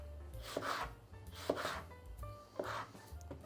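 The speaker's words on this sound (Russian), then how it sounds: "Мы его нарезаем такими небольшими слайсами" A knife slices an apple into small pieces on a board, three separate cutting strokes, each a short crisp crunch ending in a light tap, close and quiet.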